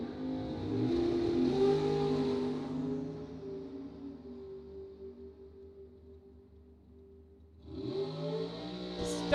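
Bracket drag race cars rev and launch hard from the starting line at a drag strip, a loud harmonic engine roar that fades into the distance, then another engine surges up near the end.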